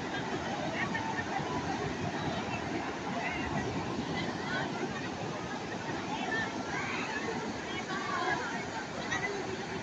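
Big sea waves roll onto the beach at Morong, a continuous rumbling surf roar with wind buffeting the microphone and people talking faintly in the background.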